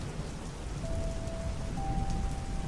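Steady rain pours down on a mountain hiking trail, a dense, even hiss filling the scene without pause and with no voices.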